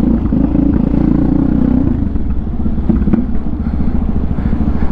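A Cafe 400 motorcycle engine revving high and steady up close while the clutch is worked a few times, its loud rumble holding throughout with slight dips and surges and no talking.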